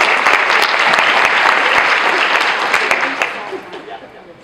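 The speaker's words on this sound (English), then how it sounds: "You're all clapping" Audience applause at a prevention conference, a dense burst of clapping that holds steady then tapers off toward the end, loud and close.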